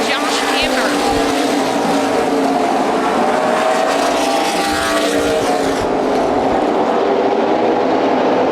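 Race cars of the CRA Super Series roar past in a loud, continuous pack under green-flag racing at Indianapolis's ORP oval, engines droning and shifting in pitch as they go by, with a voice talking over them.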